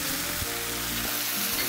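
Oyster sauce and soy sauce sizzle steadily in a hot frying pan while chicken sticky wings cook, a close, continuous frying hiss with soft stirring scrapes and no voices.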